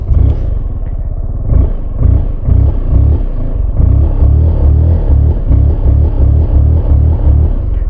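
A Zontes 368G adventure motorcycle, a single parked bike fitted with LED headlights, spotlights and front and rear dash cams, idles and revs loudly up close, its low pulsing exhaust rumble rising and falling with a few throttle blips.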